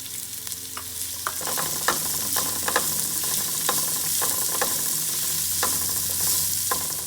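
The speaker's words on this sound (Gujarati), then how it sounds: "હવે આપણે અહીંયા કાંદા સોતે કરીએ છીએ" Onions sautéing in hot oil with chilli and garlic for Gujarati aloo methi shaak, a steady close sizzle broken by frequent sharp scrapes and taps of a spoon stirring the pan, with no talk.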